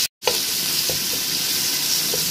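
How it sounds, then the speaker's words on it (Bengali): Onions frying in oil in a pan give a loud, steady sizzle after a brief moment of silence, with faint stirring clicks scattered through it and no talk. "এই তেলের মধ্যে এখন আমি 1/2 কাপ পরিমাণ পেঁয়াজ দিয়ে দিচ্ছি"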